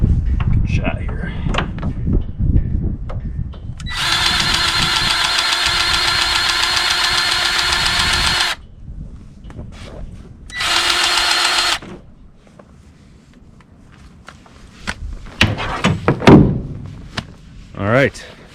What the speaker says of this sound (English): So we're gonna take our trusty Milwaukee grease gun.